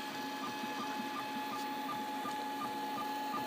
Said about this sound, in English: the printer is really nicely tuned at the moment, so it's been printing out these parts very well